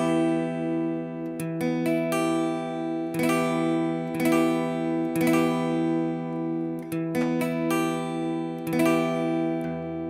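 A minor chord strummed repeatedly on guitar, its full ringing tones sustaining steadily with regular fresh strums and no voices.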